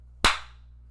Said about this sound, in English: We need another clap